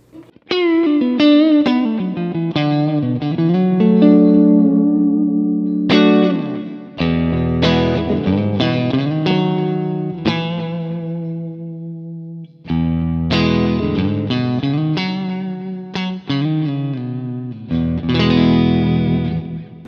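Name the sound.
electric guitar through amp profile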